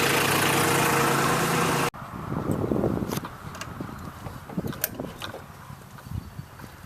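A tractor engine idles steadily at a low rumble after a loud burst of broadband noise cuts off, with faint knocks and clatter over the running engine.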